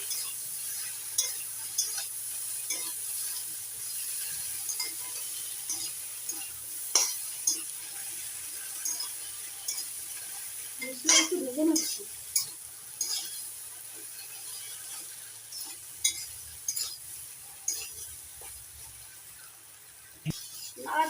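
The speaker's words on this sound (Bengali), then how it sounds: "এবার দিয়ে দিলাম একসঙ্গে কাঁচা পাকা লঙ্কা আর জিরে বাটা নড়াচড়া করে ভালো করে মিশিয়ে নিচ্ছি" Green chillies and cumin paste fry in a pan alongside cauliflower, with a soft sizzle under repeated clinking stirs of a utensil against the pan, close and without speech.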